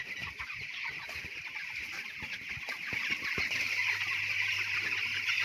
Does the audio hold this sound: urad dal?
no